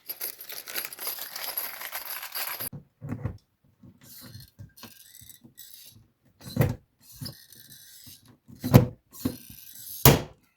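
Rivets being set into the rear door of a W212 Mercedes E-Class during a door lock repair: after a hiss of noise, a few separate sharp metallic clicks and clunks with quiet gaps between them, close by and alone.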